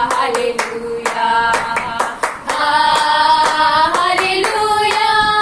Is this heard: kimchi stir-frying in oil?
no